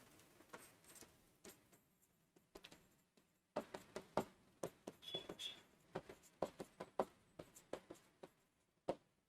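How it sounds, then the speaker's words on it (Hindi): Chalk or marker taps and scratches across a board during a history lecture, in irregular short strokes and clicks, close and fairly quiet, with no speech. "उसका नाम लिखता हूं मैं"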